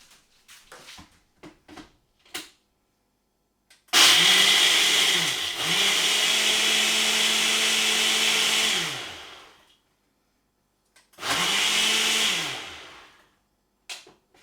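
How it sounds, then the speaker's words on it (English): A kitchen blender whirs loudly for about five seconds blending a piña colada, its motor pitch dipping and rising, then stops; after a pause it runs again in a shorter burst. "So pop the lid on and into the blender."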